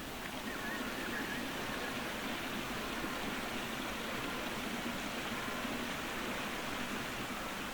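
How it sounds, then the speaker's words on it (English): Creek water flowing steadily at an old gold rush mining area near Ophir, New South Wales, a constant broad rushing wash that stays even and fairly close throughout, with no voices. "let's go down and look at the creek again"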